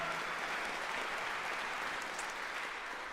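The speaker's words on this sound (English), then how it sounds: "So I think we can give him a round of applause, can't we?" An audience at a live concert presentation, part of the Honens Pro-Am series, gives a round of applause: dense, steady clapping that holds at an even level for the whole stretch, fairly soft and with no voices over it.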